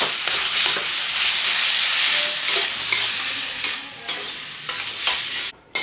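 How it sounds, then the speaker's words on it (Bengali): Boneless chicken is stir-fried in a hot pan, with continuous sizzling and frying beneath repeated scraping strokes of a spatula stirring the pieces, close and fairly loud, and no talk. "বনলেস চিকেনটা, এটা দিয়ে দিব। এটা সুন্দর করে কষিয়ে নেবো একটু।"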